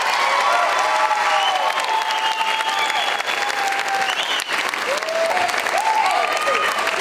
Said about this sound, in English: What does this applause mean to you?